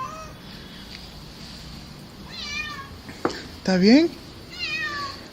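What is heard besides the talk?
cat meowing in a cemetery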